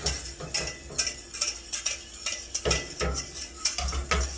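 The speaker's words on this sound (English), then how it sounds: "cubes of butter. Start mixing it in." Cubes of butter are whisked into a beurre blanc sauce over heat, a quick rhythmic run of metal whisk clicks and scrapes against the pan, close and steady, with a faint sizzle beneath.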